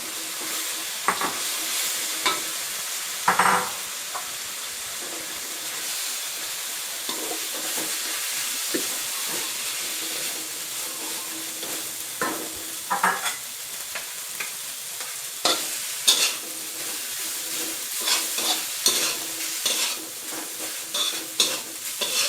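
Cooked rice is stir-fried in a pan for green curry salmon fried rice, giving a continuous sizzle with repeated scraping and stirring knocks throughout, no voices.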